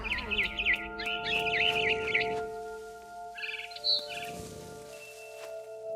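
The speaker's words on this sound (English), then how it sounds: "Then I heard chirping outside my window. It was a barn swallow going back to her nest." Barn swallow chirping outside a window in the game What Remains of Edith Finch: bright, rapid chirps and twitters in short bursts over a steady tonal music bed, then a few higher isolated calls.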